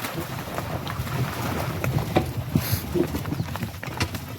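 Draft horses pull a load along a road, hooves clip-clopping in an irregular rhythm at close range, with wind noise and a faint background rumble.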